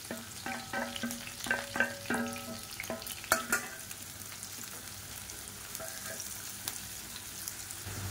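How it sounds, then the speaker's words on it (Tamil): Sliced onion and green chili frying and sizzling in an oiled pan, a steady soft crackle with a few sharp stirring clinks early on, quiet and close, no voices. "இப்போ இது எல்லாமே நல்லா பொரிய ஆரம்பிக்குது."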